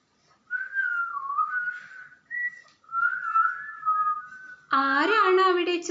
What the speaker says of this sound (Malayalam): ആരാണ് അവിടെ ചൂളമടിക്കുന്നത്?